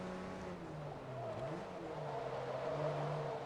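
A Porsche Boxster 3400S engine in the racing game Forza Motorsport 2 drones steadily at a fairly faint level, its pitch dipping briefly before settling back into a sustained hum.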